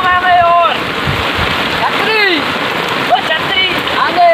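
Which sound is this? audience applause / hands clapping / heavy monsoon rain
heavy monsoon rain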